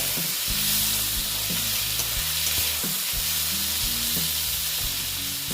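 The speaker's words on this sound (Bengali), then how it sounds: "দিয়ে আবার আমি ভেজে নিচ্ছি চিনিটা একটু কমিয়ে দিচ্ছি কারণ নাহলে পেঁয়াজটা পুড়ে যাবে" Onion frying in oil with a little sugar in a pan, a loud continuous sizzle close up with repeated scraping and stirring strokes throughout, no talking.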